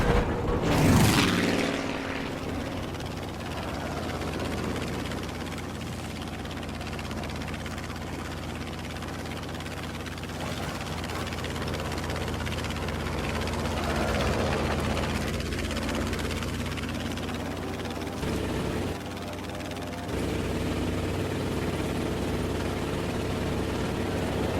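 A warplane flies in Battlefield V on the Pacific update map, its engine a steady, loud propeller drone that holds for the whole stretch without talk.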